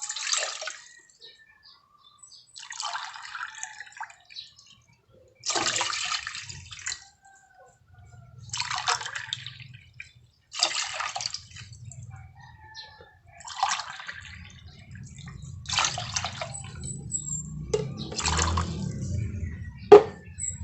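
Water poured into a measuring cup while preparing coffee jelly, several separate pours spaced over about twenty seconds, close and soft, with a low rumble building under the later pours.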